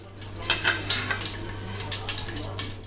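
Whole spices such as cumin, cinnamon, cardamom, black pepper and cloves crackle and sizzle in hot ghee and oil in a pan, a steady bright hiss with small popping bursts, close and fairly loud.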